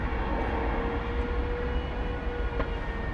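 A Delta Airbus A321 arriving into DFW at night makes a steady, loud rumble with broadband roar. It holds constant throughout, with no voices.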